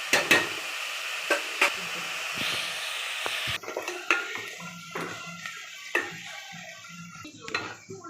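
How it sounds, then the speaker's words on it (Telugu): Onions for an Andhra-style chicken curry fry in a pan with green chillies, the hiss punctuated by repeated sharp clinks and scrapes of a spoon stirring against the metal. "ఎర్రగా వచ్చేదాకా వేసుకుందామండి 10 నిమిషాల పాటు ఉల్లిపాయలు."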